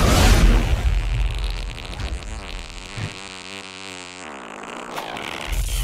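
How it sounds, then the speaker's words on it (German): A cartoon fart sound effect from the German trailer for the 2018 animated film Teen Titans Go! To the Movies, a loud buzzing, sputtering blast over music and effects, lasting several seconds. "Er hat gefurzt."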